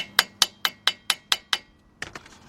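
Seven evenly spaced metallic hammer taps drive a socket onto a bolt close by in a steady rhythm, during front brake work on a 2005 Chevy Suburban, followed after a short pause by a few quicker, lighter clinks.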